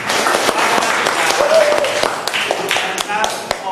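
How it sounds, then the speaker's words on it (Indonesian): Children in a classroom clap their hands together in a dense, steady burst of applause that lasts throughout, with brief voices mixed in under the clapping. "Tepuk tangan dulu dong ya"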